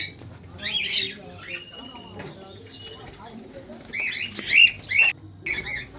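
Conures and lovebirds, including yellow-sided conures, squawk and chirp in bursts at a bird seller's shop, with the loudest shrill calls clustered near the end over a low background murmur.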